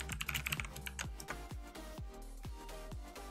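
Fingers type on a computer keyboard in a quiet room, a fast run of keystrokes at first, then a slower, regular series of soft, close clicks, with no voices.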